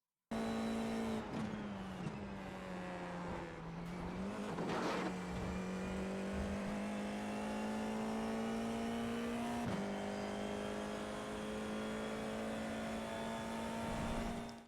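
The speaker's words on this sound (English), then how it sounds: "we want to get back on full throttle to power us across the line to finish our lap here at Montreal" An FIA F4 race car at the Montreal circuit, its engine held at full throttle in a loud, steady high-pitched drone, with brief lifts and shifts early on, then a sustained climb in pitch through the gears.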